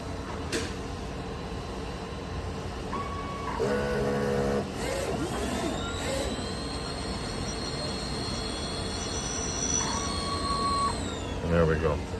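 A Super Mini DTF printer runs a nozzle check after a cleaning, its print head shuttling with a steady whirring and mechanical clatter, close by, beneath a constant background hum with short bursts of movement noise.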